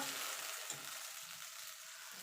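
Tomato, green chili and ginger paste frying in a pan for dum aloo, a quiet, even sizzle with faint stirring and no voices.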